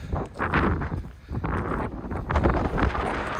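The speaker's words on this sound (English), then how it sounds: "Wind!" Strong wind buffets the microphone on an outdoor walk along public footpaths near Atherton and Farnworth, a loud, continuous roaring rumble with gusting surges throughout and no talking.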